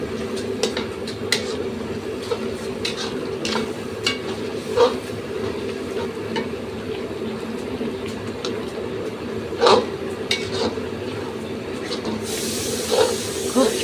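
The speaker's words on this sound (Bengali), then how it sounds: "আর দিয়ে দিব ধনিয়ার গুঁড়ো। ভালো করে নেড়ে ছেড়ে কষিয়ে নেব।" Turmeric and coriander powder sizzle and get stirred in a hot pan, a steady frying hiss with occasional soft scrapes and clinks of the spoon against the metal.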